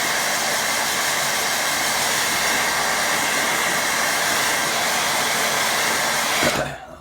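Hair dryer blowing on wet watercolour paint, a steady loud whooshing hum that runs unbroken and then cuts off near the end.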